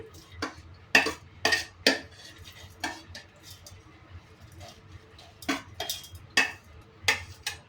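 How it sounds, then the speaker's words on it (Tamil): A spoon scrapes and taps against metal cookware and a mixer jar as food is transferred, irregular clinks and knocks separated by short quiet pauses. "அப்படியே மிக்ஸி ஜாருக்கு மாற்றுறேன்"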